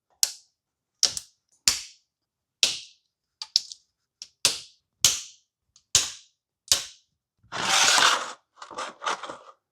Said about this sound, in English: Now I just need to undo the series of bolts around here and that cover will come